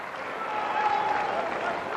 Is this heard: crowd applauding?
yes